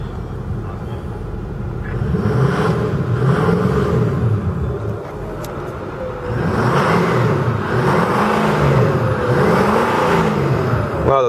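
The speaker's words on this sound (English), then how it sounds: "Let's roll the window down so you can hear the engine." A 2008 Ford F-250 XLT turbo diesel is revved from idle several times, its deep engine rumble swelling and falling in repeated surges with turbo whistle, heard up close and loud with no talking.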